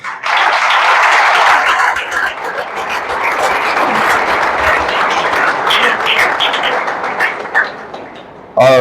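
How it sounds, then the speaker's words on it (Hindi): Sustained applause from an audience at a selection-results felicitation ceremony, dense and steady for several seconds before thinning out and briefly swelling again at the end. "वीरेंद्र रावत के लिए तालियां।"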